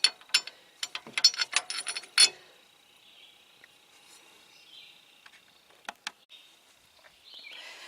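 A ratchet drives a replacement wheel stud into a vehicle axle, with a quick burst of close, sharp clicking strokes followed by a few isolated clicks over faint background hiss.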